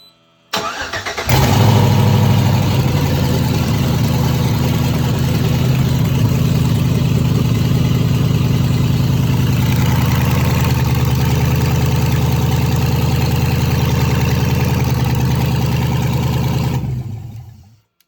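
An LS V8 swapped in from an 08 GMC Sierra cranks briefly and fires up. It settles into a loud, steady idle for about fifteen seconds, then shuts off.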